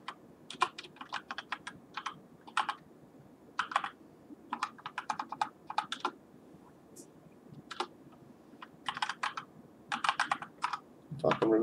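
Close keystrokes on a computer keyboard tap out a login in quick irregular bursts with short pauses, fairly quiet with faint background noise.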